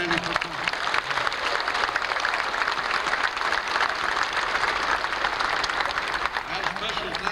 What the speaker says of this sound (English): I would also ask for another round of applause for the U.S. Navy Band for their outstanding performance.